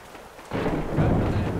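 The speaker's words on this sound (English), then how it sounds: "Man, this storm though." Heavy thunderstorm on Wake Island in Arma Reforger, with quiet ambience suddenly giving way at about half a second to a loud, sustained rumble of thunder and dense rain that holds steady to the end.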